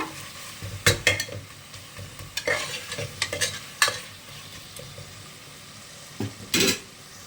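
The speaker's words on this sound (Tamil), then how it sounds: "இதெல்லாம் வந்து நல்ல கிரேவியாக வர அளவுக்கு வதக்கிக்கோங்க" Mutton gravy with a little turmeric being sautéed and stirred in a pan, giving soft sizzling with repeated scraping and stirring strokes close by, no talking.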